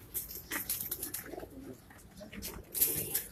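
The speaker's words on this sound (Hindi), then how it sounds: "फिरोजपुरी कबूतर आपको दिखा रहे हैं" A Firozpuri pigeon coos softly in a few low, rolling notes, faint and somewhat distant amid quiet background noise and occasional sharp rustles.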